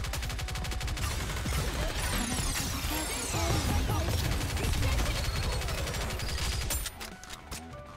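Heavy sustained gunfire from the video game NIKKE tears apart and destroys a tower, a dense loud barrage of shots with crumbling debris running for about seven seconds before it drops off.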